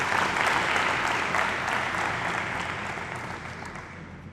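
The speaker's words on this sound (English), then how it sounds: "Please give yourselves a round of applause for that beautiful video." A hall audience at a school Interact club installation ceremony claps together in sustained applause, dense and even, gradually tapering toward the end, with no talk over it.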